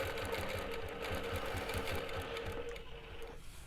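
A longarm quilting machine doing ruler work, its steady rapid stitching whir close and continuous before cutting off near the end.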